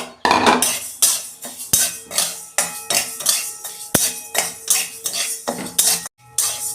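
Moong dal is dry-roasted in a pan while a metal spoon stirs it briskly, making a rhythmic run of loud scraping clinks and rattles, close and without talk.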